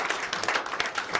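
A studio audience claps steadily for the FCT minister, a dense patter of many hands at a call-in radio programme, loud and close with no talk over it.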